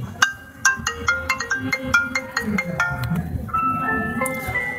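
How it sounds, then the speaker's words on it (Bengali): A 5 Star BD 39 button phone plays its ringtone, a bright electronic melody of quick repeated beeping notes that rises and shifts pattern toward the end, loud and close with no talking. "চলুন দেখি যে ফোনটির যে রিংটোনের সাউন্ড এটা কেমন ছিল।"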